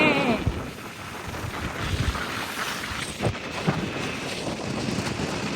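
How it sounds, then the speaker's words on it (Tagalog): Strong wind blasts across the microphone at Puro, Legazpi City, in a continuous rough roar, with occasional sharper gusts thumping through. "Masyadong mahangin dito sa Puro, Legazpi"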